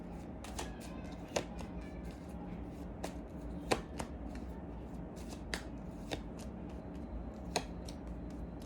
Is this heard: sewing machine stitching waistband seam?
no